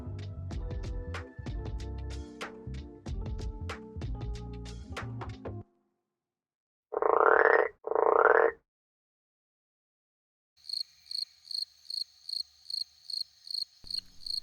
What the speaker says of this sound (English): when the sun sets and the frogs come out, now whistling tree frogs are nocturnal by trade